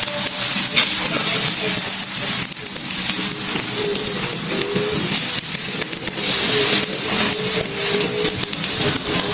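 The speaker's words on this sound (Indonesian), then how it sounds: "dipanggang ini supaya ikannya lebih berasa kayak ikan panggang atau wangi-wangi ikan bakar gitu" Fish grilling in a pan with a steady, loud, dense sizzle and hiss that runs unbroken throughout, with faint stirring or scraping at times and no talking.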